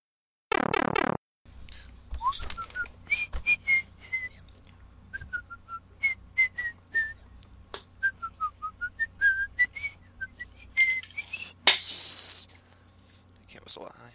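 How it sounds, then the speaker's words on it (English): A person whistles a high, wavering tune in short rising and falling phrases, close and clear, with a brief burst of other sound at the start and a loud clatter near the end. "Can't whistle that high."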